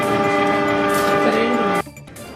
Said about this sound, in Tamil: அதிக சத்தத்துடன் ஒலி எழுப்பியவாறு இந்த ரயில் கடந்து சென்றது